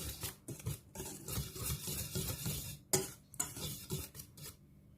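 A wire whisk stirs dry bread dough ingredients (flour, powdered milk) in a bowl for Filipino pandesal, with steady scraping and rattling strokes and a couple of sharper clinks against the bowl; no voices.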